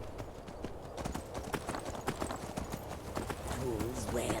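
Horse hooves gallop in Skyrim as a fast, steady clip-clop rhythm of close, loud hoofbeats, with game sounds mixed in and a brief whinny-like cry near the end.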